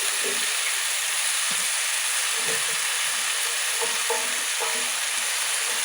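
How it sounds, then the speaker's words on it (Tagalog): Squash (kalabasa) goes into a hot frying pan and sizzles loudly and steadily throughout, with a few scattered clinks and stirring knocks over the constant hiss. "Ayan na, lagay na natin yung kalabasa."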